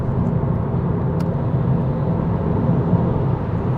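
Continuous low engine rumble and road noise from inside an Audi A3 S-Line Sportback (110 kW, 150 hp) accelerating on a highway, steady and loud throughout.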